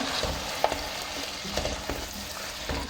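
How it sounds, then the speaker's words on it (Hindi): Carrots being fried and stirred in a pan for aloo gajar matar sabzi, a continuous close sizzle broken by scattered scraping stirs of a spoon. "चार मिनट गाजरों की अच्छी तरह बुनाई करेंगे"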